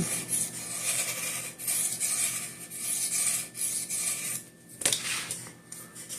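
A Boker Magnum knife drawn across a 400 grit sharpening stone gives repeated scraping, rasping strokes in a steady rhythm, close and fairly quiet.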